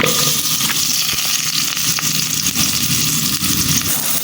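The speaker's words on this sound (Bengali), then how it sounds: "কড়াইতে তেল দিয়ে দিছি এখন পেঁয়াজ কুচিগুলো দিয়ে দিব" Chopped onions fry in hot oil in a wok, a loud, steady, close sizzle with fine crackling that holds unbroken throughout, with no voices.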